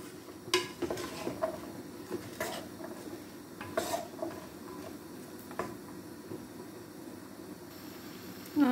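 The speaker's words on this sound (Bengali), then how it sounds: "দিয়া নাড়াচাড়া করিয়া দিব, ভালো করে মিক্স করবো এখন" Vegetable stems being stirred in a pot with dried fish in a Sylheti home kitchen, soft scraping and clinks of a spoon against the pot repeating over low background noise.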